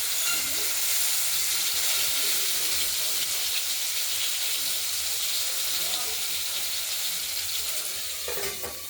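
Catla fish fries in a covered pan for a Bengali-style curry, giving a steady, dense sizzle and hiss that stays loud and even throughout, with a brief change near the end.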